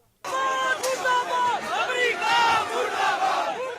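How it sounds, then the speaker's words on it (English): A rioting crowd of protesters in the streets of Karachi, attacking the US consulate, erupts in loud massed shouting and chanting, many voices yelling together in rising, overlapping cries. "a crowd of protesters attacked the US consulate in the city"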